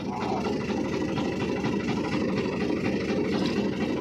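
A tractor engine runs steadily throughout, a close, continuous low idling rumble with vibration and no break, holding at an even loudness from start to finish.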